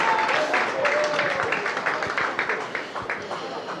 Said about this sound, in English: much to the applause of the Gillingham fans below us